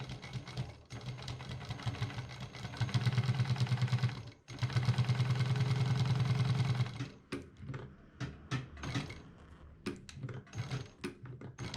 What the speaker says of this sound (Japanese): 額を貼ったら外回りを先にミシンかけますね。